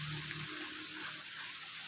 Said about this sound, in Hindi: ये देखो इतना बहुत ज़्यादा बारिश है।